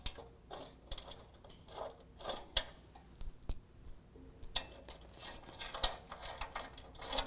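Ratcheting clicks from a 7/32 Allen wrench backing bolts out of the rear bumper on a 2017 Ford F-150, sounding as irregular close, sharp ticks and metallic taps over a quiet background.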